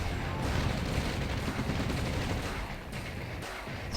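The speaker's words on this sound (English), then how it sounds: "Still got a lot of artillery for Barf here" Artillery and gunfire in the real-time strategy game OpenRA during a competitive 1v1 tournament match, a dense continuous rumble of distant-sounding shots and explosions that eases off slightly near the end.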